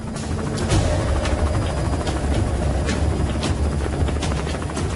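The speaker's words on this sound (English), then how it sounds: "This actual HSI recording shows a helicopter offloading several large duffel bags" A helicopter offloading cargo fills the scene with a loud, steady rotor roar and rhythmic blade thumping, heard close and continuous throughout without talk.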